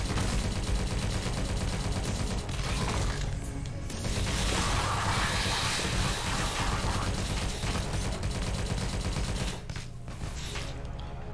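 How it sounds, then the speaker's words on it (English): Rapid automatic Tommy gun fire in the game Tesla vs Lovecraft, a loud, sustained stream of shots with brief pauses and crashing impacts mixed in. "Tommy gun. That's the stuff."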